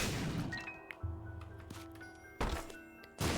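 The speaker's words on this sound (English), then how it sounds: "The explosion!" An explosion in The Binding of Isaac Repentance, heard as heavy thunking impacts with a booming low tail, repeated a few times over game music, loud and close.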